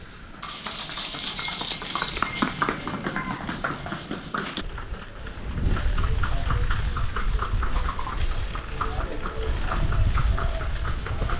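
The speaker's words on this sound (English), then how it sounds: "horse and cart, or however you say that, is like a main form of transport around the island" Steady clip-clop of hooves with a rolling rumble beneath, a horse and cart moving along at a walking pace, close by, on car-free Gili Air island, Indonesia.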